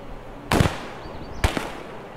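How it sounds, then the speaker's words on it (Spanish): Two sharp sniper rifle shots in the video game Escape From Tarkov, about a second apart, each a loud crack with a brief tail, over a low steady background hum. "Eso es un sniper."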